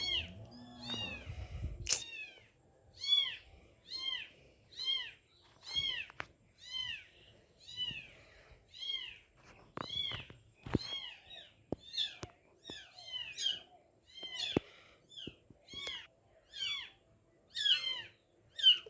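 A kitten meows over and over, high thin cries coming in a steady rhythm about once a second, close by with no talking.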